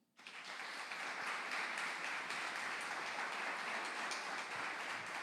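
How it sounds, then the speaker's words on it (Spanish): A church congregation breaks into steady applause during a sermon, a dense, even wash of clapping that rises quickly and holds at a constant level throughout. "Dele un aplauso al Señor."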